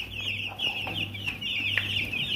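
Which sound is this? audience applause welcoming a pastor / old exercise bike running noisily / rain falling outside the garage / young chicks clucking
young chicks clucking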